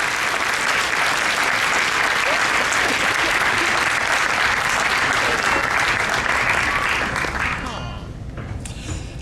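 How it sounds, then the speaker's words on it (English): At a convention's opening ceremony, an audience claps in a dense, loud round of applause that holds for about seven seconds, then tapers off quickly into a quieter room with a few lingering claps. "Please give another round of applause for Ms. Sophiana Ardinger, for her kindness"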